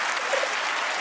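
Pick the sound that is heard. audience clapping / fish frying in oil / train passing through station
audience clapping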